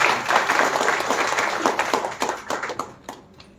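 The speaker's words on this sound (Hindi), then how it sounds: "तालियां होनी चाहिए एक बार।" A crowd at an event in Lucknow breaks into applause, steady clapping that gradually thins out and fades.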